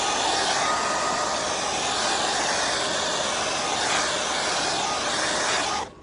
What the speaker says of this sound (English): Now I'm gonna just pull out my hairdryer and dry this real fast